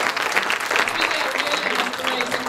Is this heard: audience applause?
yes